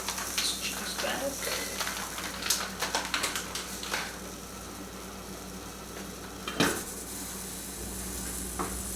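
A cheese omelette in a pan with water added, a soft steady sizzle and steam hiss with clinks and scrapes of stirring, fairly quiet, a voice talking over it.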